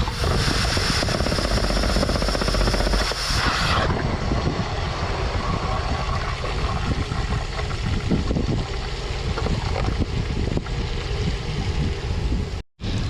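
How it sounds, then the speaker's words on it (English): An irrigation pump motor, mounted where a pipe rises from the pump, starts up and runs outdoors, a loud steady broadband roar that drops slightly after a few seconds and continues at a lower, rough churning level with no talk. "I'm gonna set my GoPro down here so you guys can see this irrigation start up. It's really cool actually. Or this motor start up."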